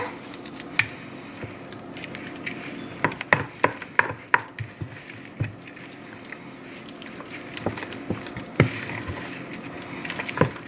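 Baked spaghetti with alfredo sauce, mozzarella and egg mixture is stirred in a bowl, soft wet squishing and scraping with clicks of the utensil against the dish, close and moderately quiet, without talk.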